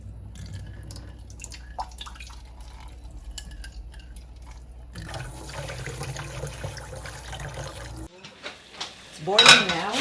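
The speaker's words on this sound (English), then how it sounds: "Boiling now." Water bubbles in a pot on the stove, a soft, uneven churning with scattered drips and a few faint clinks. The bubbling grows denser and busier toward the end.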